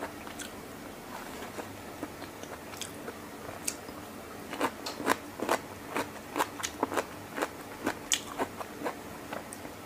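Close-up crunchy chewing of fresh vegetables with chili dip, slow at first and then a rapid run of crisp bites and crunches, with no talking.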